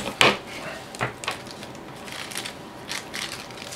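Crinkly plastic bag rustles and crackles in irregular bursts as power supply parts are packed into it, starting with a sharp crunch and continuing with softer scattered handling noises.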